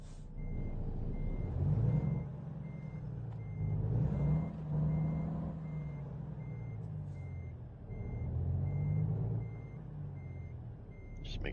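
Truck reversing beeps ring out in American Truck Simulator as a semi backs up to push its trailer, a steady series of regular high pips sitting over a low, continuous diesel engine rumble that swells and eases.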